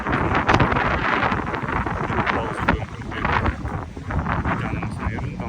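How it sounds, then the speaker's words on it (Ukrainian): Strong wind roars and buffets the microphone continuously, a loud broadband rush with gusts, while voices speak intermittently underneath. "Але тут вітер, щоб ви собі розуміли."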